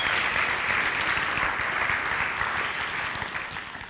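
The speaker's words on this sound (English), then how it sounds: "let's give Trevor a round of applause." An audience at a 2016 leadership academy claps in a steady wash of applause, dense and fairly close, slowly fading toward the end, with no speech over it.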